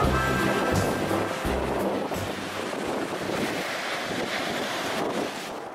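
Ocean waves wash in at Songdo beach in Pohang, a continuous rushing surf with gusts of wind buffeting the microphone, loudest at the start and then settling to a steady wash.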